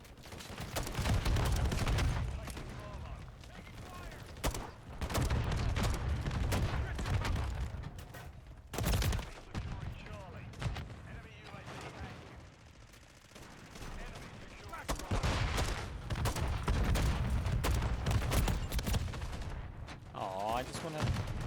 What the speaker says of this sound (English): Oh right, I forgot I have the grenade launcher.